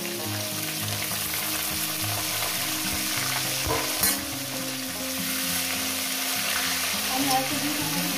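Whole vegetables fry in hot salted oil for a Bengali chorchori, giving a loud continuous sizzle close by, with stirring clatter and a brief clink near the middle.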